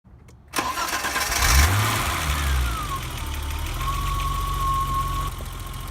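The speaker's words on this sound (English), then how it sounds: "As you can hear, there is a bit of a ticking noise, which is quite common in these M20 engines" A BMW E30 with an M20 engine fires up with a sharp start, then settles into a steady idle with a faint, light ticking running through the hum.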